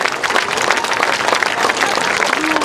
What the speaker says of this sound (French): que vous connaissez, applaudissements